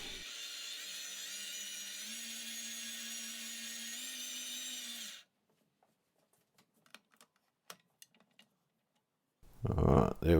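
An electric mixer beats pumpkin and sugar in a bowl, giving a steady whirring motor drone for about five seconds before shutting off, followed by quiet clicks and scraping and a final short rush of noise.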